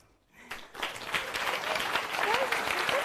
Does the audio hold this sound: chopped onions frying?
no